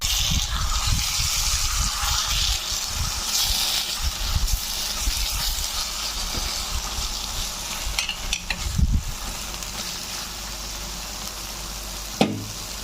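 Hot tempering is poured over palak paneer and sizzles loudly, a steady close frying hiss that runs throughout, with a brief sharp clink near the end and no talking.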